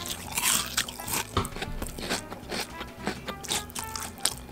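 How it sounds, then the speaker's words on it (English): Crisp, loud crunches from biting into fried chicken katsu in a Japanese bento, a close run of sharp bites and chewing with brief pauses between them. "And check out this fried delight. Oh, the crunch we wanted."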